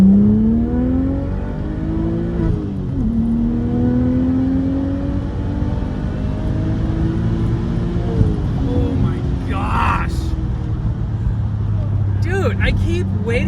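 An Audi B5 S4 accelerates hard in third gear, its engine note climbing in long rising sweeps with a shift, heard from inside the car over steady road roar and a brief bit of excited talk.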